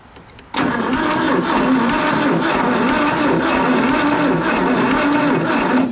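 An old VW bus engine cranks during a spark test, a loud, continuous mechanical churning that starts suddenly and runs for over five seconds without catching.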